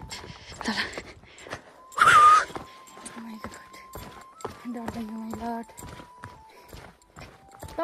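Horse hooves clip-clop along a mountain trail on the way to Rara, a steady walking beat heard beneath almost continuous conversation between people nearby.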